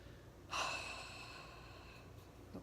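A single deep breath drawn in and slowly let out, starting with a sharp rush of air and fading into a long, soft exhale, close and quiet, with no voice.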